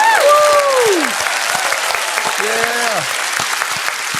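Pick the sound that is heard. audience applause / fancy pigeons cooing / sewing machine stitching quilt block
audience applause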